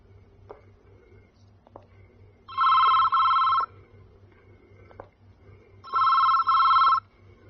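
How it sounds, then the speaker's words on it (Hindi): A telephone rings in two long double bursts with a pause between, over a low steady hum and faint background clicks, in a scene from the Bollywood film Darr. "चलो फोन उठाओ। फोन उठाओ किरण।"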